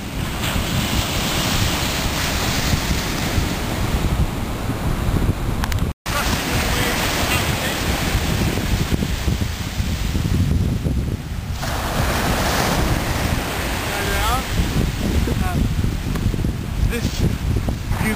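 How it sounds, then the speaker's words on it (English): Sea waves break and wash along the shore at Newbiggin-by-the-Sea, a continuous loud roar of surf mixed with heavy wind buffeting the microphone, with a brief dropout partway through. "Here come the waves."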